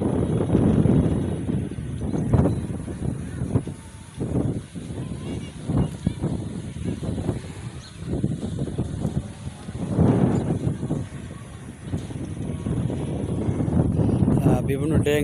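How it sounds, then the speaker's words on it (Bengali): Strong wind gusting at the Charmonai Jamia grounds in Bangladesh during stormy weather, a loud, continuous buffeting roar with surging gusts across the whole stretch, pressing on the microphone. "প্রচণ্ড বাতাসের শব্দ নিশ্চয়ই আপনারা"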